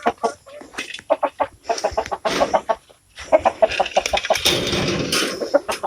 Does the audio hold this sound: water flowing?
no